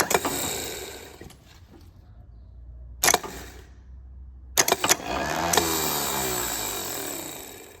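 Starter motor from a John Deere 2010 traxcavator, bench-tested by jumping the solenoid to the battery: sharp clicks and brief whirring spin-ups, then a longer steady whir, close and loud with no speech.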